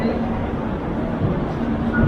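A train rushing past at speed through a small station in India, not the main Ahmedabad station, gives a steady, loud rumble with a faint hum that holds for the whole moment without letting up.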